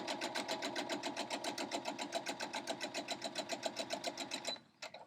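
A sewing machine stitches a quarter-inch quilt seam, running in a fast steady rhythmic whir of needle strokes up close, then stopping abruptly near the end with a brief click.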